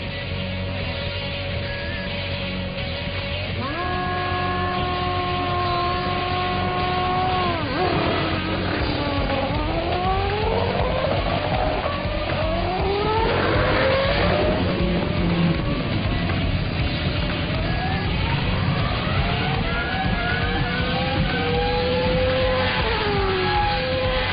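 Engines of a car, a motorbike and a boat racing side by side over a quarter mile, with repeated rising and falling revs as gears change, loud and continuous throughout with no talk.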